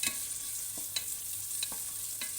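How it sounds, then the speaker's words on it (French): Ramen toppings are stir-fried wok-style in a pan, a soft constant sizzle punctuated by several quiet scraping stirs and tosses at irregular intervals. "En moins de 2 minutes à chaque fois, on les fait revenir et ça va très vite. C'est un peu une façon wok de cuire les aliments."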